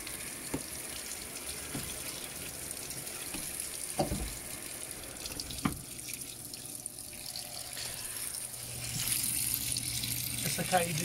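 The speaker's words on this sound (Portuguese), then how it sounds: "eu vou aguardar a lavadora encher" A Panasonic Ag+ 16 kg washing machine fills with water: a steady rushing, splashing stream runs throughout, with a few sharp knocks and a fuller surge of water near the end.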